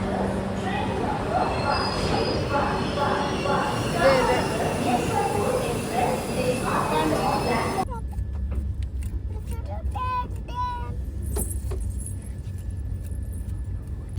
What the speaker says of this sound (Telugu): ఇదే అన్నమాట మా ట్రైన్ వస్తుంది చూడండి.